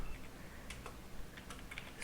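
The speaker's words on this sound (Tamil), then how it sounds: "ஏதாவது ஒரு அட்ரஸ் டைப் பண்ணிக்கலாம்" Scattered keystrokes on a computer keyboard as an address is typed into a mail merge in Microsoft Access, a few light clicks spaced irregularly over a faint background hiss.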